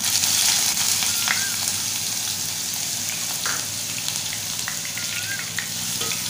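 Finely chopped onions fry in hot oil, giving a constant, loud, close sizzling crackle with no talking.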